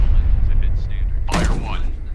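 A single loud naval gun blast in the game Destroyer: The U-Boat Hunter cracks out near the end, following a low rumbling background with faint radio-like tones.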